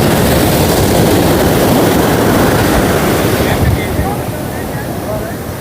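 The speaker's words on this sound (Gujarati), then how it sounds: "મોજા અત્યારે એટલે બધા મોજા ઉછળે છે" Rough sea waves crash on the beach at Porbandar chowpatty in a continuous loud roar, with wind buffeting the microphone, easing slightly toward the end.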